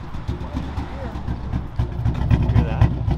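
A Mercedes fitted with McLaren wheels runs with a smooth, steady engine note that rumbles low and swells slightly louder toward the end.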